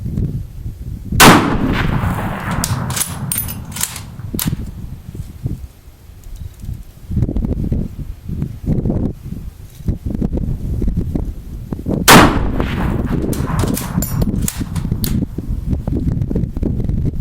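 Mosin-Nagant rifle fitted with Smith sights fired outdoors: two sharp, loud reports about eleven seconds apart, each followed by ringing echo, with steady wind-like rumble and rustling in between.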